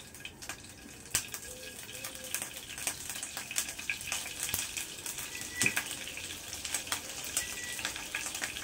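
Shrimp fritters crackle and sizzle in hot oil, with scattered popping bursts and light stirring or placing noises close by, fairly soft and continuous.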